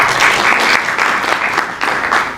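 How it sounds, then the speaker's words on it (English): Audience applause at a workshop, a steady burst of many hands clapping close by, filling the whole moment with no voices over it. "Let's clap for her."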